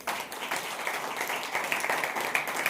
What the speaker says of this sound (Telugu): చప్పట్లు కొడతాం ఒకసారి